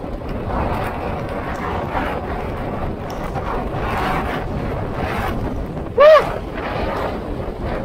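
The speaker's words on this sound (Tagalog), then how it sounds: "Inampas na naman ako ng hangin na napakalakas." Strong typhoon wind roars steadily against the microphone, a constant heavy rush with gusty swells and a brief louder buffet near the end.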